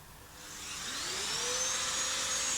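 A drywall sander with vacuum dust extraction whines steadily as it spins up on dried plaster patch compound in a plasterboard wall, the motor rising in pitch and holding a loud continuous drone.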